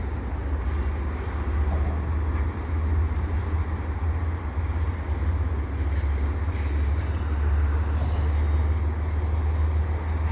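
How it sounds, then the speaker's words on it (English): A CPKC eastbound intermodal train rumbles past near Dorval, a loud, steady low drone of locomotive and rolling cars that continues unbroken. "I can hear a locomotive right now."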